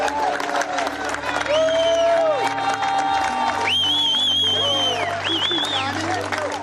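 A crowd applauding and cheering at a community Recovery Walks event for addiction recovery on a Sunday, loud sustained clapping with whoops mixed with voices and babble throughout.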